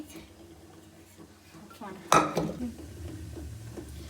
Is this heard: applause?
no